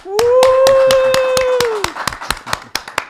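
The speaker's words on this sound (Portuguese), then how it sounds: "Estamos recebendo, com muitos aplausos, a equipe JP Maia" Sparse rhythmic clapping welcoming a guest team on a podcast set, about a dozen evenly spaced claps, close and distinct, with a sustained tonal sound at the start and a voice beneath.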